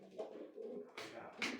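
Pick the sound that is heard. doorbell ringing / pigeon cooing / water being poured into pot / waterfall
pigeon cooing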